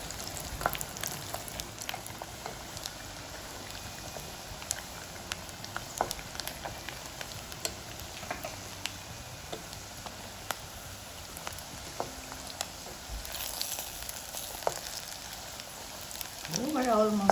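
Chicken skin fries in hot oil with a steady, dense crackling sizzle and scattered pops throughout, rising slightly louder toward the end.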